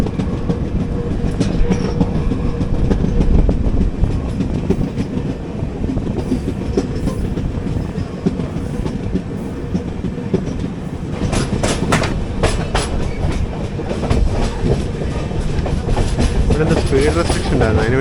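A 12805 Janmabhoomi Express train from Guntur to Secunderabad rumbles steadily from inside an AC Economy coach, with a continuous loud roll and occasional rhythmic clicks of the wheels over rail joints.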